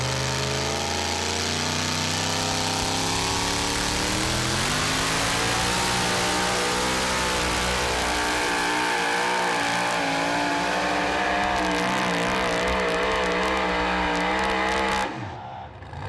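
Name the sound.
pulling truck engine roaring at a truck pull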